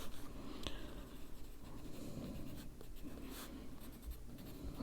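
Pencil scratching steadily across paper while sketching small wildflowers, soft continuous strokes with occasional sharper taps, close and quiet, no voices.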